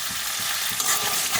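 Spice paste with ground nut paste fries in a pan for a winter potato dum, a steady bright sizzle with soft rhythmic spatula strokes repeating about every third of a second, close and alone.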